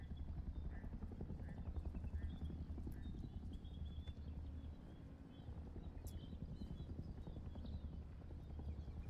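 A helicopter in the survival game Rust drones steadily at moderate distance, a continuous low rotor thrum underneath faint in-game footsteps and clatter.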